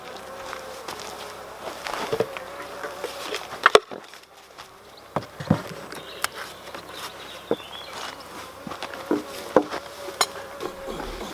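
Bees hum faintly around a beehive with honey supers and syrup, a soft continuous buzz broken by scattered taps and knocks close by.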